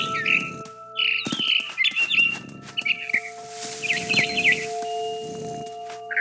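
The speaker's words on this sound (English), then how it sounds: "I heard chirping outside my window. It was a barn swallow going back to her nest." A barn swallow chirps outside a window in the video game What Remains of Edith Finch, with bright, rapid tweets in several clustered bursts over a faint, soft rustling bed.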